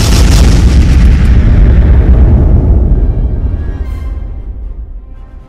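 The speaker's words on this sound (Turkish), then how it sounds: "top atışlarına başladı." Ottoman cannons of unprecedented size firing on city walls during a siege, heard as a loud, thundering boom that rolls on for several seconds before slowly fading out.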